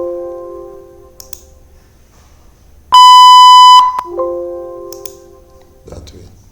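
An alarm from a Python PyQt5 alarm clock app, a single loud, harsh electronic buzz lasting about a second, set between softer tonal chimes.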